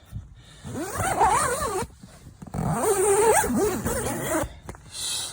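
A zipper is drawn along the door of a two-person treeline hunting ground blind in several long, close pulls separated by short pauses, and a whining, squealing tone rides over the zip.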